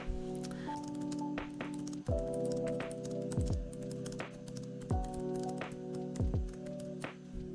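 Keyboard typing on a computer, a steady run of light clustered key taps with short pauses, close up and moderately quiet over a faint steady background hum.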